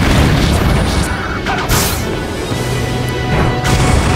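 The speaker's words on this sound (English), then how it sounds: "Nice cracker launcher should finish him off." A Cracker Launcher blast in Super Smash Bros. Brawl erupts as a loud booming explosion, with crashing impacts layered over dense, continuous game audio throughout.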